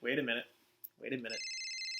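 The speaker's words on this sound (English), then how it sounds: "Got a phone call." A telephone rings with a steady electronic tone after someone speaks, the ring sustained and fairly loud near the end.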